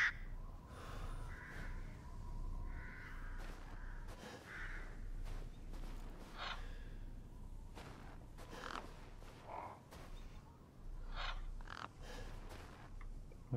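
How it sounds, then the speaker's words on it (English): Crows caw intermittently in the Resident Evil Village video game on PS5, scattered rough calls rising from a quiet, eerie ambient backdrop with occasional creaks and thuds. "Where is that bird?"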